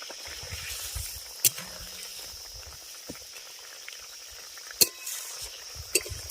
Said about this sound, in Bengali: মাছটা দিয়ে আরও দু মিনিট একটু ফুটিয়ে নেবো যাতে মাছের মধ্যে মশলার ফ্লেভারটা ঢুকে যায়